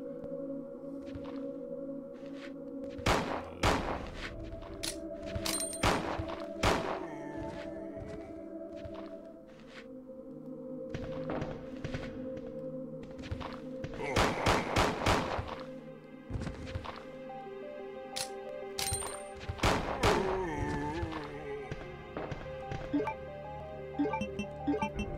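Spark shot grenade launcher rounds firing in Resident Evil 2 during Claire's laboratory section, a series of sharp electric cracks and thumps over a droning game ambience, with clustered bursts spaced several seconds apart.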